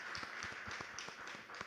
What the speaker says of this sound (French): J'aimerais que vous les applaudissiez, s'il vous plaît.